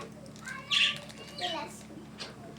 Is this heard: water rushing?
no